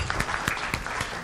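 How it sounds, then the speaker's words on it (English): An audience at the Asia Health Summit 2018 claps for the attendees, a short burst of scattered applause with a few sharper, closer claps standing out against the rest. "So, round of applause for everyone who's here."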